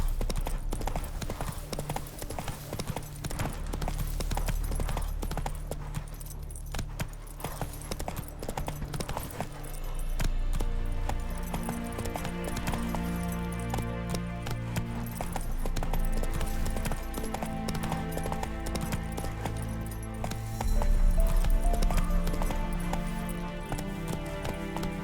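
Hooves pound in a continuous fast gallop as the horse Roach races across open ground in The Witcher 3, loud and close under a layer of game music, with brief surges in intensity.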